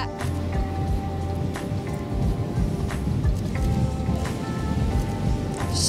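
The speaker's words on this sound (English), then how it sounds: "It's so windy." Strong wind blowing outdoors during a maternity photo shoot, a steady loud rushing and buffeting roar across the whole clip, with scattered gusty pops and no clear talk.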